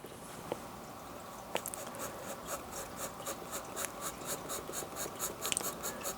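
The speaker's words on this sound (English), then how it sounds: "To continue the idea of that below ground, you would just draw a line like that." A pen drawing freehand lines on sketchbook paper makes a soft, close scratching, with a repeated rhythmic scraping of short strokes through the middle and end.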